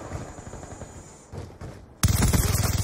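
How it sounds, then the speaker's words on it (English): Video-game gunfire: a couple of soft shots early, then a loud, rapid burst of automatic fire closes the clip, near and dominant. "Shot him"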